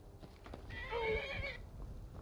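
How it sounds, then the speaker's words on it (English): A horse attacked and killed by bandits in the video game Skyrim lets out a brief, strained whinny, faint and distant, over low rumbling game ambience. "Are these just bandits killing a random horse?"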